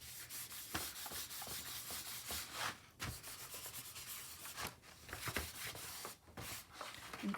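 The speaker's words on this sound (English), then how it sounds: "So the first thing I'm going to do is give this a little bit of a rub." Sandpaper rubbing over the surface of a garden portfolio before gilding, a steady close scratchy rasp running almost continuously, with short pauses as the strokes change.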